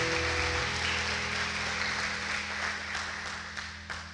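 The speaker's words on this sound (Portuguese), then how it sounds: "Dê uma salva de palmas para o Senhor nesse momento." A church congregation at a Portuguese-language service claps together in dense, steady applause that slowly thins toward the end, with a low sustained musical tone underneath.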